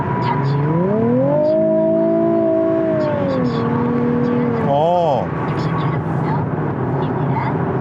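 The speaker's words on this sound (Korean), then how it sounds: "엔진에서 나는 그 하이톤의 음색은 굉장히 매력적이고" A Nissan 370Z on the road, its engine giving a high-pitched tone with little exhaust note, the pitch climbing and holding steady under continuous driving noise, then briefly wavering before settling.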